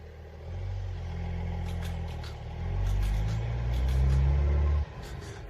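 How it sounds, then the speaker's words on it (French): A car's engine idles and then revs as the car pulls away outside an abandoned house at night. The engine is loud and close, rising in pitch and then cutting off abruptly near the end. "Il va à la voiture et part."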